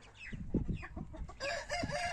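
Silver chickens and chicks in a coop cluck and squawk excitedly, a busy flock close by with overlapping calls that grow denser and brighter midway through.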